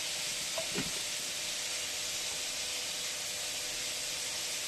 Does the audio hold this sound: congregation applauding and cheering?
no